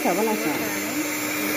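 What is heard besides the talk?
Usha 300 watt hand blender beating eggs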